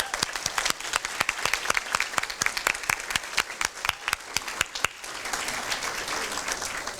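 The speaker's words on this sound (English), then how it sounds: "Let's give them a round of applause." Audience applause at a Kiwanis All A's awards ceremony: crisp, rhythmic claps ring out close and loud for about five seconds, then give way to a softer, scattered patter of clapping and room noise.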